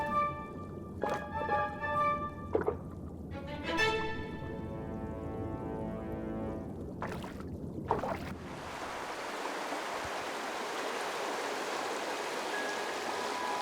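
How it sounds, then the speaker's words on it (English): Water courses through the stream of the Wutach Canyon after a stretch of tonal, music-like sounds. It becomes a steady, broad rushing wash that fills the second half, close and continuous. "The water coursing through the Wutach Canyon has travelled from the high Alps and made its way through rock crevices, lakes and streams."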